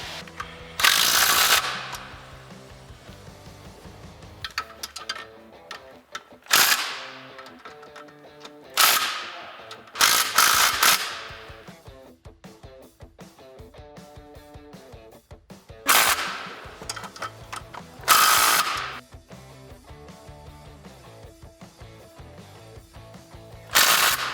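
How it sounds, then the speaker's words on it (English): An impact gun with a 13mm socket tightens aluminum flywheel bolts on a 1996-2010 Mustang GT, giving about eight sharp, loud rattling bursts, each a second or two long, separated by quiet pauses. "I'm gonna go around and tighten them up now. I have a 13mm on my impact gun."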